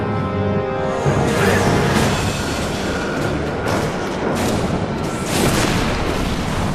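A loud explosion over the New Mexico desert rendered as a sustained, rumbling boom that fills the whole stretch, dense and roaring without clear breaks.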